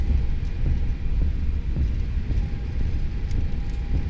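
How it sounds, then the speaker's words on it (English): Aircraft wheels on an Airbus A320 in a flight simulator roll over runway turtles, producing a steady low rumble with faint rhythmic thumps repeating throughout, no talking. "Hitting turtles there. That's what that sound is."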